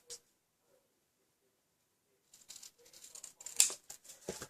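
Scissors trimming paper for a handmade journal: after a quiet pause, a close, soft run of quick snipping and paper rustle, with a sharper cut near the end.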